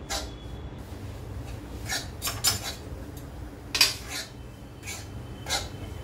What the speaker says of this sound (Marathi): तर आपण मंद गॅसवरती आता हे पीठ भाजून घेऊ